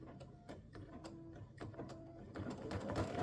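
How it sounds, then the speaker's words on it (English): An embroidery sewing machine running a satin stitch, quiet rapid mechanical ticking and whirring in short irregular bursts, fairly faint and close. "So it's going to do the satin stitch all the way around."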